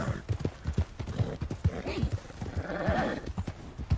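Hooves clip-clop in a steady walking rhythm as a horse picks its way across rugged mountain terrain in the video game Red Dead Redemption 2, close and clear with a faint low ambient bed behind.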